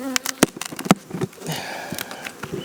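Honeybees at an open apiary hive, a buzzing hum mixed with close handling noises, sharp knocks and rustles from working the frames, with brief bursts throughout.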